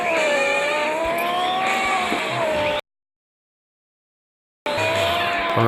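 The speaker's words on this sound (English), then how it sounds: "I'm not trying to drift Lambo, drift, amazing drift." In a mobile driving game, a Lamborghini engine drones and whines, its pitch gliding up and down as the car drifts, with tire noise underneath. Silence cuts in midway before the engine sound returns.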